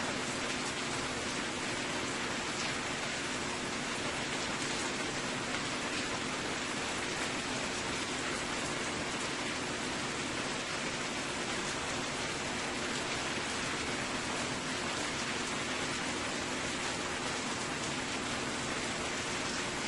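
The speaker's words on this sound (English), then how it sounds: "Into my pan there, I'm adding my turkey bacon." Turkey bacon sizzling in a hot frying pan during a home breakfast cook-up, a dense, even crackling hiss that continues unbroken for about twenty seconds with no talking.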